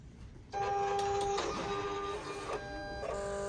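A sticker cutting machine starts its cut with a sudden whirring motor drone and stepping tones that shift in pitch as the blade carriage moves, steady and close.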